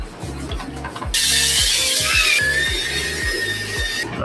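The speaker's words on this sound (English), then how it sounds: "We're gonna go ahead and start by cleaning the bottoms. We're gonna start by switching the attachment on our drill." Power drill spinning a stiff bristle brush over the soles of Flint Jordan 13 sneakers, a steady loud scrubbing whir with rhythmic low thumps of the brush against the rubber throughout.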